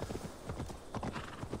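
Horse hooves clip-clopping in Assassin's Creed Valhalla, a quick rhythmic series of soft thuds at a trotting pace, close and fairly quiet.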